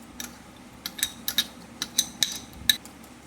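Rose milk with soaked sabja seeds and boiled sago stirred with a spoon, giving a run of light metallic clinks and taps against the vessel at an irregular rhythm, close and fairly quiet.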